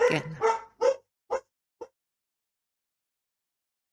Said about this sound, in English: If you've just heard that, that's my dog barking